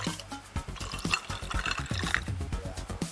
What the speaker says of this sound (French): Verse dans un bac à glaçons.